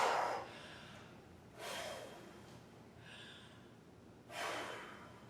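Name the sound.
deep breaths during workout recovery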